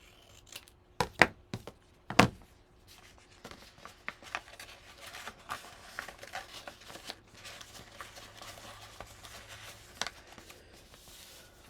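Scissors cut paper down to size for a handmade folder: crisp snips come in a quick cluster, then softer rustling and trimming sounds continue close and quiet, with no talk.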